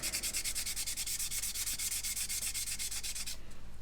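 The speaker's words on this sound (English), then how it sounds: "just a light sand with a sponge or a bit of wet and dry" Light sanding of scribed panel lines on a plastic model kit with a sponge or wet-and-dry paper, heard as a steady run of quick, even back-and-forth rubbing strokes close by, with no voices.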